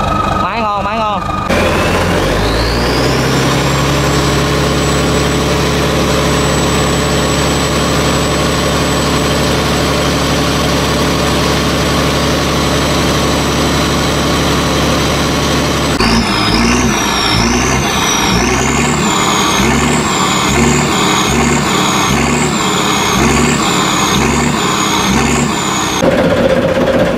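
A fishing boat's engine runs loud and close throughout, holding a steady low drone. Partway through, the sound shifts to a pulsing, rhythmic knock as the engine's note changes.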